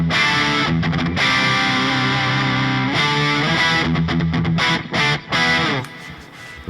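High-gain electric guitar through a Laney IRF Loudpedal amp with its bright switch engaged, playing loud, heavily distorted chords and riffs with a few brief choked pauses near the end.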